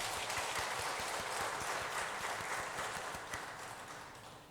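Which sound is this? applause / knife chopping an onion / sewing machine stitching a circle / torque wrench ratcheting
applause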